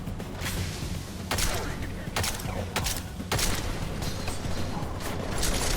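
Gunfire in a first-person shooter video game, several sharp bursts of shots spaced across the stretch amid mechanical clatter and game noise, fairly loud and close.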